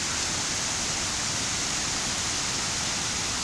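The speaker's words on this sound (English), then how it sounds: "Still raining though." Heavy rain and a swollen waterfall at Benlister Falls, Lamlash, roar as one dense, unbroken hiss, loud and steady with no other sound.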